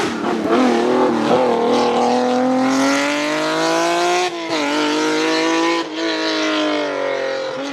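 A Lancia Stratos rally car engine revs hard and continuously, a loud, close, rising, buzzing howl with brief dips at gear changes, no talk.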